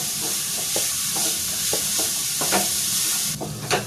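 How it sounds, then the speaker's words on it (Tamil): Mixed vegetables for egg fried rice sautéing over high flame in a pan, a steady sizzle broken by repeated scraping stirs of a spatula, close and fairly loud throughout with no talk. "நல்லா காய் நல்லா வதங்கட்டும்."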